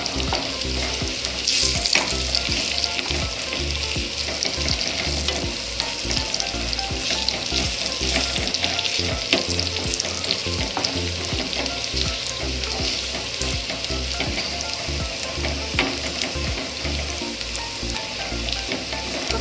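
Green chili and garlic fry in a pan while an aloo baingan sabji is prepared, giving a loud, continuous close-up sizzle and crackle with scattered stirring scrapes throughout.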